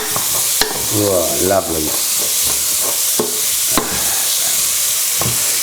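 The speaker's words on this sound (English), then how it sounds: "So what I would say is leave the onions, keep stirring, you know, giving them a stir." Onions frying in a pan for a Moroccan lamb tagine, with a steady sizzle and repeated scraping stirs and knocks of a spoon; a voice speaks briefly near the start.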